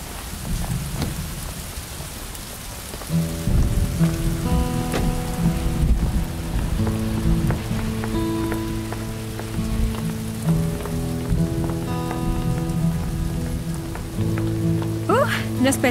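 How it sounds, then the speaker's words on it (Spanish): Steady rain pours throughout with low rolling thunder underneath and a soft tonal musical backdrop rising in, no voices present. "No esperaba que fuera a llover."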